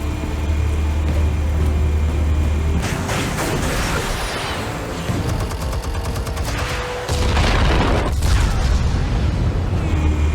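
Explosives detonate in Batman: The Telltale Series, a heavy boom rolling in after a steady low rumble, followed by crackling debris and a second burst of blasts near the end.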